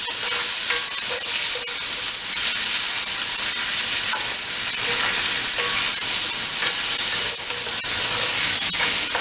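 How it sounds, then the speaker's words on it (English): Ingredients for jollof rice frying in a hot pan, a dense continuous sizzle and crackle with small pops scattered throughout, close and steady, no talking. "you're gonna fry it just a little bit for a little until it turns translucent"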